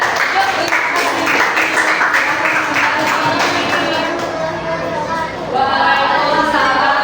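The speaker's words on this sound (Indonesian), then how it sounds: "Beri tepuk tangan anak-anak." Children in an Indonesian classroom clap for a group that has just presented, a dense patter of applause mixed with chatter and young voices, fading slightly toward the end before picking up again.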